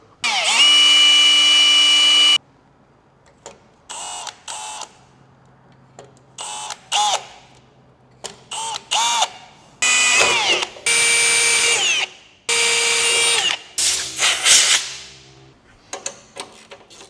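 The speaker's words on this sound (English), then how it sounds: "drill that, put a bolt through." A power drill whirs close by in a series of bursts, some long and steady, others short, with brief quiet pauses between them and no talking.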